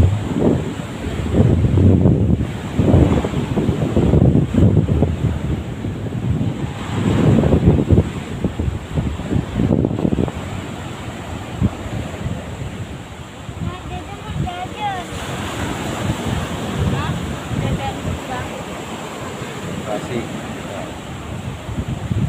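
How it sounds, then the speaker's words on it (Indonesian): Strong waves break on the shore at Pantai Kura-Kura in the morning, loud surf rolling in repeated surges with heavy wind buffeting the microphone, and voices talk faintly through part of it. "di musim seperti ini pantainya ombak kuat"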